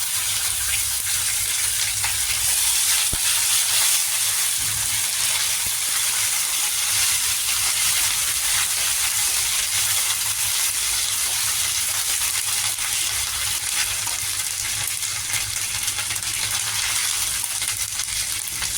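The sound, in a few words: ginger paste sizzling in frying pan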